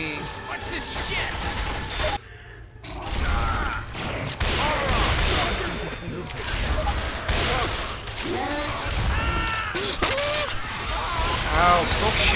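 Gunfire from Left 4 Dead 2 crackles in rapid bursts and scattered shots throughout, with a brief lull early on, mixed with game clatter and voices talking over it.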